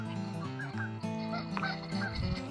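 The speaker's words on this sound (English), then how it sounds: "We've got geese coming across in front of our campsite, and almost all the little groups have babies." Geese with goslings crossing in front of a campsite at New Hogan Lake honk repeatedly from close by, in a busy overlapping string of calls.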